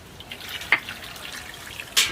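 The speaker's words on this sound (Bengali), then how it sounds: "একটু ঠান্ডা জল দিয়ে দেবো" Cold water trickles and splashes over freshly boiled, still-hot eggs at an outdoor picnic, a soft continuous pour with a couple of sharper splashes near the start and end.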